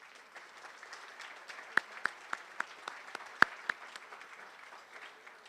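Applause from a gala audience, a steady wash of many hands clapping at moderate distance with a few sharper, closer claps standing out, sustained throughout without speech.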